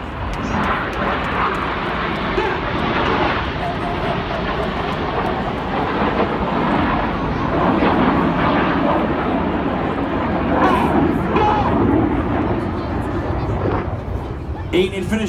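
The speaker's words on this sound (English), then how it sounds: "The inside pilots pitch up to the outside as they fly the rollbacks." Red Arrows jets fly rollbacks at the Rhyl Air Show, their engines making a broad, sustained roar that swells and fades overhead while a commentator talks over the public address throughout.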